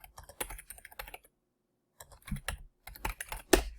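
Typing on a computer keyboard, quick bursts of close key clicks and taps in two runs separated by a short silent pause, ending on a firmer keystroke.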